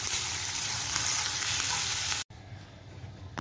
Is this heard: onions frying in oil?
yes